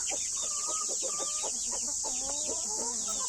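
A hen clucks repeatedly and close among her chicks, whose rapid high peeping chirps overlap the clucking throughout.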